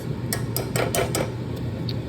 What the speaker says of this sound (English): take this little potato masher and mash them up a little bit